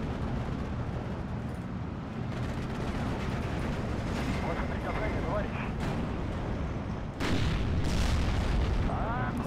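German 88mm guns firing in Steel Division 2, dull booming blasts amid a dense rumbling battle din, with a heavier report near the end and voices talking over it.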